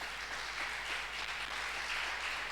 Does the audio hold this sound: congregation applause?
yes